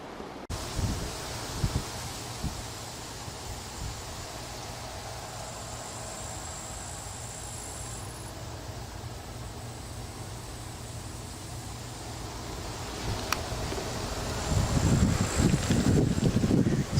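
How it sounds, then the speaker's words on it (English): Steady wind blows across the microphone on a rural bicycle tour in Lubelskie, Poland, a constant broadband rush with occasional rustling that grows louder and gustier near the end. "It's been quite windy today."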